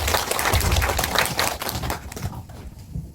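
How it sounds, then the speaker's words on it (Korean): Members at a political party general meeting in Chuncheon clap to welcome an advisor to the podium, a burst of hand claps that fades away after about two seconds. "뜨거운 박수로 환영해 주시기 바랍니다"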